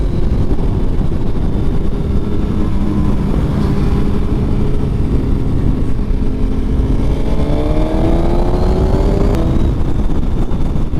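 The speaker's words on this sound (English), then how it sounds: "This is actually my first time riding a full-on sports bike" A 2019 Suzuki GSX-R 1000R sports motorcycle is ridden with its engine droning steadily under heavy wind rush, the pitch climbing as it accelerates near the end.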